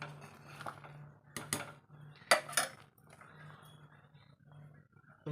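A utensil stirs sambar in a metal cooking pot, with several sharp clanks and scrapes against the rim in irregular bursts, close and fairly quiet between strikes, over a low steady hum.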